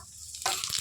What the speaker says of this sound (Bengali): তেলটা গরম হয়ে গেছে, এবার ফোড়নে দিয়ে দেবো জিরা